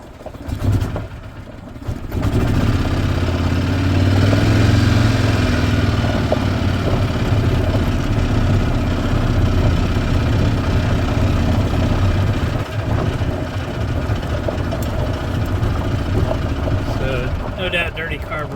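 A 2010 Yamaha Drive G29 gas golf cart's engine starts up and runs steadily while driving, a loud, continuous mid-pitched drone lasting most of the stretch, with people talking over it.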